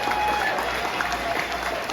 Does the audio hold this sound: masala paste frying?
no